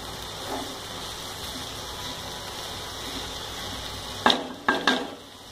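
Shredded cabbage and moong dal fry in a pan with a steady, soft sizzle, followed near the end by a few louder scraping stirs or clatters of a utensil against the cookware; no one speaks.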